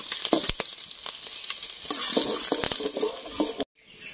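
Green chilies and mustard seeds fry in hot oil with a dense, continuous sizzle and crackle, close and loud, broken by stirring scrapes before cutting off abruptly near the end.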